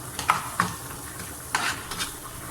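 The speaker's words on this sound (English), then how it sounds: "My potatoes are really making a noise, eh?" Potatoes sizzle steadily in a hot pan, with a few sharp scraping clicks of a utensil stirring them near the start and middle.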